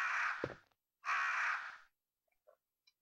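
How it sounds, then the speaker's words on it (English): Crows in Resident Evil give two loud, harsh caws in quick succession, with a few faint clicks and small sounds trailing off into silence afterward. "if you get the puzzle wrong, those crows will attack you"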